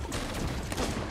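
Cannon fire from an enemy ship in the Sea of Thieves video game booms in a short burst of rumbling, overlapping blasts.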